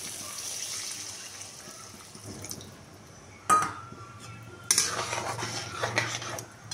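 Water goes into a pan of cooked-down spices before fish is added, a faint liquid hiss and drip under clattering utensils, with two sharp pan knocks and a louder splashing, sizzling stretch in the second half.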